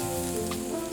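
Shrimp sizzle steadily in heating New Orleans-style BBQ sauce, a close, continuous crackling fry heard on its own for a brief moment.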